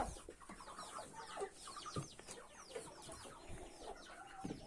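Several chickens cluck busily after being let out of their coop on a farm, with overlapping near and mid-distance calls and short chirps continuing throughout, without any talking.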